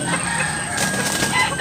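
A bullstag rooster crows in a brief, loud, close call that fills the whole moment, set against a noisy outdoor background.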